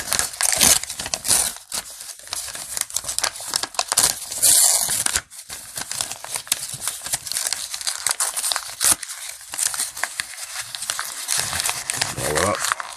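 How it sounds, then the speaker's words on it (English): Sheet of paper being torn apart by hand during a sleight-of-hand paper magic trick, ripping and crinkling bursts repeating over several seconds, close and fairly loud, with someone talking intermittently. "I'm just going to basically tear it up and create a new whole piece of paper again."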